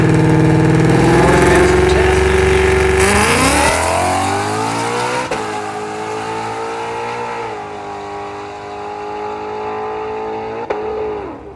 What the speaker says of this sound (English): Y'all think this Mustang gonna make a full pass?